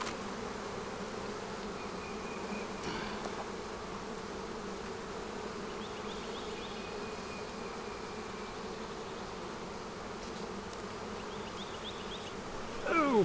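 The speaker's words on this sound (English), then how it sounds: "These bees are getting angry." Honey bees buzzing around an opened hive during an inspection, a dense, steady drone of many agitated bees at close range, with a few individual bees whining past near the end.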